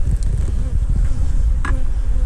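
Honeybees buzzing around a nuc hive while bringing in pollen, a dense, steady, close hum filling the air with no speech.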